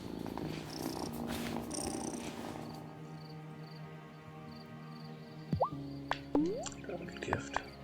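A cat purrs softly in the farming video game Wylde Flowers, a low steady rumble under game ambience, followed by a few bright watery plops and chirps near the end.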